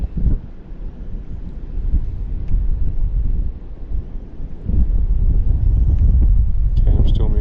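Wind buffets the microphone outdoors during bait-finesse fishing, a loud low rumble that swells and gusts throughout, growing stronger partway through, with a few faint higher tones near the end.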